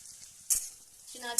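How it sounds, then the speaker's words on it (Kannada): Onions fry lightly in a pan for crab sukka, a soft low sizzle broken by a sharp scrape and a brief metallic clink of a spoon against the pan. "ಈರುಳ್ಳಿ ಎಲ್ಲ ಸ್ವಲ್ಪ ಬೇಯುವಷ್ಟು ಹೊತ್ತು ಇದನ್ನ ಲೈಟ್ ಮಾಡಿ ಫ್ರೈ ಮಾಡಿದ್ರೆ"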